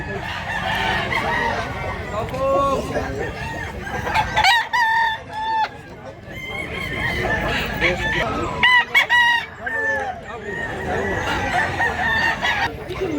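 Several chickens cluck and a rooster crows repeatedly, loud and close, with a busy farmyard din throughout.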